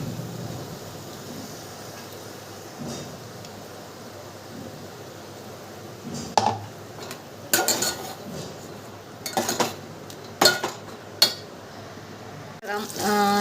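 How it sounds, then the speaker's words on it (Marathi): Ground masala goes into a pan of hot oil with a spoon: a low, steady kitchen hiss, then sharp metallic clatters and scrapes of the utensil against the pan in uneven bursts over the second half. "आता वाटून घेतलेला मसाला टाकते"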